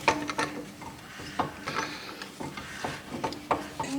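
Brake caliper piston rewind tool being wound in on the rear caliper of a 2021 VW T-Cross, close metallic ratcheting clicks and creaks in uneven bursts with no speech.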